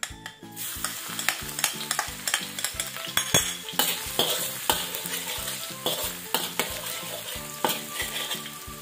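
Garlic sizzles in hot oil while a utensil scrapes and stirs the pan in a quick, uneven rhythm of clacks over a constant frying hiss, close and loud, no speech.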